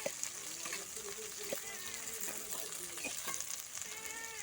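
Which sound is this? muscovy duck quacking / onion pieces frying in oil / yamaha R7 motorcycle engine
onion pieces frying in oil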